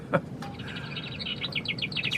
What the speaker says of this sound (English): That's a bird clock up there.